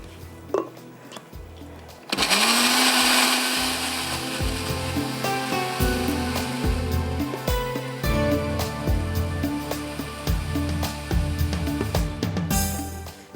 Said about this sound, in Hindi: तो पहले मैं प्याज को पीस लेती हूँ